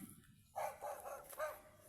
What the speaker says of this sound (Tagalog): Tahol ng tahol yung mga aso.